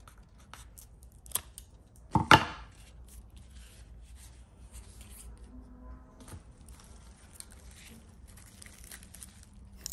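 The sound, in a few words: cutting off rotten orchid roots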